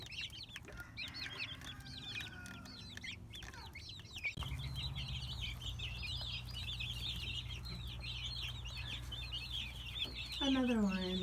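Heritage chickens cluck and chatter throughout, many birds close by with overlapping calls and a steady low hum beneath, and a louder squawk rising near the end.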